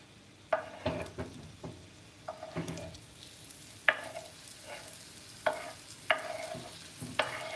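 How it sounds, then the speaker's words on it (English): Food sizzles in a frying pan while being stirred, with a string of scraping, clattering stirring strokes landing at irregular intervals over a constant frying hiss, close and fairly loud, no talking. "Do you want to get this stuff going in the pan, Jake?"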